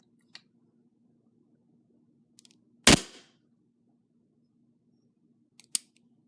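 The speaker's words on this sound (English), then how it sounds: "penetration test on paper at point blank range" An airsoft gun fires a BB into paper at point-blank range, giving one sharp, loud snap followed by a short rattle. Fainter clicks come before and after it, and a low steady hum runs underneath.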